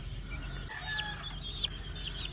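Chickens cluck and make soft short calls close by over a low hum, a few brief vocalizations overlapping.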